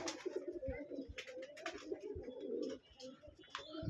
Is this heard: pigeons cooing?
yes